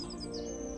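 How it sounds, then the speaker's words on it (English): Bird in the Dwarrows video game giving a few quick high chirps over a steady background hum, brief and fairly faint. "We have a bird!"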